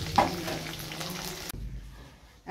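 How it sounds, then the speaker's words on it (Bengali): Food frying in a pan in a home kitchen, a steady loud sizzle with light stirring for about a second and a half, then cutting off abruptly to a low, quiet background. "এখন দেখছি একবারেই ভেজে নেবো"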